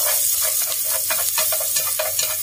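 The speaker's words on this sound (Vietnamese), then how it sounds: "mình cho thịt vô mình xào" Pork hitting hot oil with minced garlic and shallots in a pan, a loud continuous sizzle with crackling pops and stirring scrapes, no talk.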